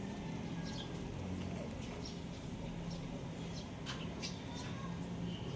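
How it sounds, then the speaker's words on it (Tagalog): Birds call outdoors near a house with pets, short chirps and coos scattered faintly over a constant background hiss, with a person's voice occasionally audible. "Daming ibon, oh."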